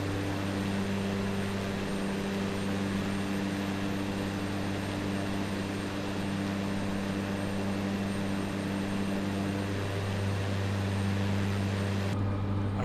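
Steady drone of a Cessna Grand Caravan's turboprop engine in Microsoft Flight Simulator, a constant loud hum with tonal layers that holds unchanged throughout, with a slight shift near the end.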